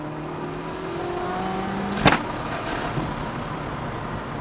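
A hypercar engine accelerating hard, a loud continuous roar with a sharp burst at about two seconds, then a steady high-revving drone.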